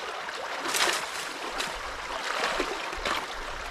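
Water and debris rush through a breached beaver dam on a creek, a continuous broadband gushing with surging swells, close and fairly loud.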